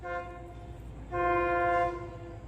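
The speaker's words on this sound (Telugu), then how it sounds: "మా ట్రైన్ వచ్చేసిందో." An arriving train sounds a loud, sustained horn in two blasts over a low rumbling rail background.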